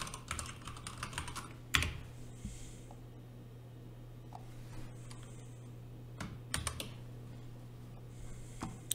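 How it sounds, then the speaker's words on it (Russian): A password is typed on a computer keyboard in quick bursts of soft key clicks with brief pauses, close but quiet over a steady low hum. "Вводим пароль."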